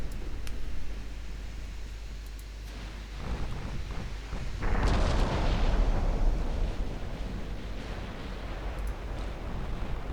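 Naval gunfire from warships in Ultimate Admiral Dreadnoughts, a steady low rumble of distant cannon booms that swells into a heavier, louder roll of blasts midway and keeps rumbling on.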